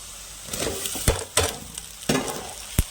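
Potato pieces go into hot oil seasoned with salt and turmeric for potato fry rasam, a moderate sizzle broken by several sharp spatula scrapes and knocks, close and without talk.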